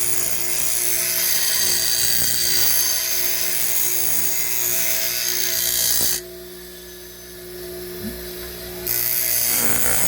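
A bench grinding machine runs steadily while sharpening a chisel, a loud continuous whine with a brief drop in level midway before returning to full strength.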